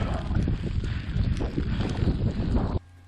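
Strong wind gusting across an exposed fell at a wild camp beside Angle Tarn on the Coast to Coast trail, a loud, continuous buffeting roar on the microphone that cuts off abruptly near the end.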